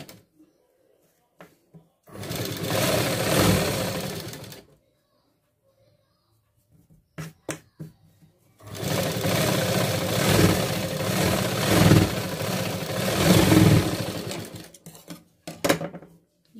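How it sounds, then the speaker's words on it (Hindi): Sewing machine stitching a blouse lining in two bursts, a steady whirring run of about two seconds, then a longer run of about six seconds, with brief clicks and handling noises between. "इसको पास वाली सिलाई लगा देंगे"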